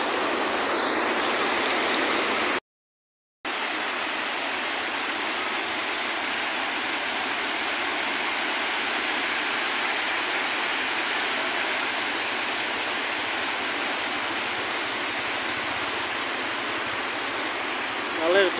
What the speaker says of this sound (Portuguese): para você ver a queda d'água